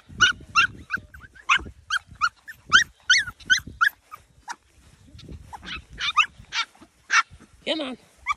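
Several F1B mini goldendoodle puppies yap and bark in quick, high-pitched bursts, with whimpering whines between them, close by and fairly loud.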